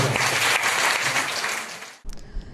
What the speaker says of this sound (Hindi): जोरदार तालियों के साथ सैल्यूट